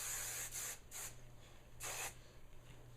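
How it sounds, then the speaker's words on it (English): Several short bursts of hairspray hiss close by onto curled hair, with brief pauses between them, over a low steady hum. "I'm going to give this all a good spray."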